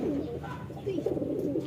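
A pigeon coos softly nearby, a few low, rolling throaty notes in a short, quiet burst.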